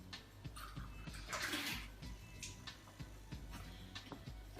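Faint splashing and trickling of tap water being poured, rising briefly in a gush, with light clicks and low background music.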